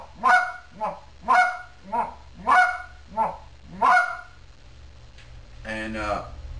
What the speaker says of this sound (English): your stall cluck, which is just a murmur right before a cluck